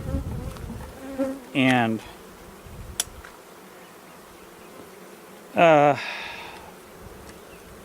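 Honeybees buzzing around an opened hive during an early spring inspection, a steady low drone close by, with a brief spoken phrase near the start.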